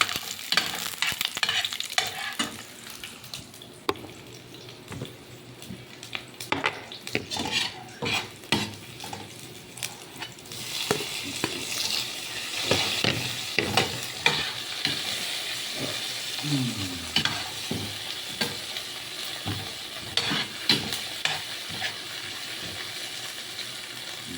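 Ground pork sautéing in a pan for a mung bean and alugbati dish, with steady stirring scrapes and utensil clatter over a low frying sizzle, in bursts and louder in the second half.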